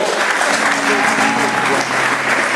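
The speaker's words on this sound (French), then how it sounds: "on peut acclamer le Seigneur" A church congregation applauds to acclaim the Lord, dense sustained clapping from a large crowd, loud and close, with voices mixed in and holding steady for the whole stretch.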